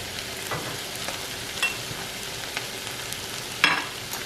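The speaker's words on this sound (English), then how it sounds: "Now I'm going to toss in some sliced portobello mushrooms." Sliced portobello mushrooms sizzle steadily in a hot frying pan, a constant close crackle broken by occasional spatula scrapes and clinks of stirring.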